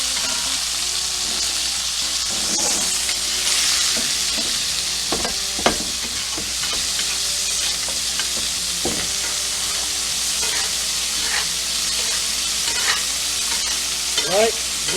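A New York strip steak sizzles and spatters steadily in a pan while being basted with butter and rosemary, close and loud, with occasional spoon scrapes and pops.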